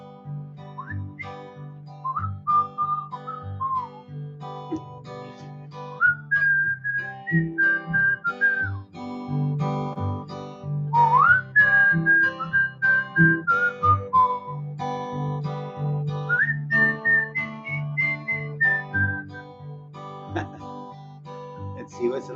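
Someone whistles a melodic tune in phrases, clear and close, with brief pauses between lines and some faint accompaniment underneath.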